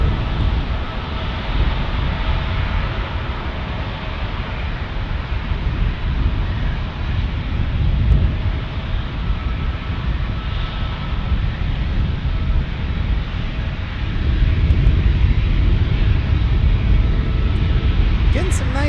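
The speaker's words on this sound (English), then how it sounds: "Southwest is taking off" Southwest airliner taking off at San Diego's airport, a broad distant jet roar that swells and fades under a steady breeze, with a person talking over it.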